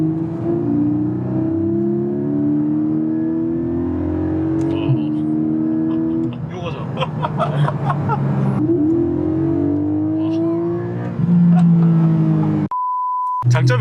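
A Porsche 718 Cayman GTS 4.0 with its mid-mounted engine revs loudly and close, rising and falling through several pulls, while a person speaks briefly; a steady electronic beep sounds near the end.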